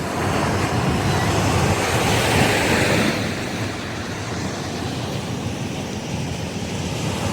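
Sea waves wash onto a beach at dawn at a beach resort in Infanta, Quezon: a loud, continuous roar of surf mixed with wind buffeting the mic, easing slightly partway through, with no talk.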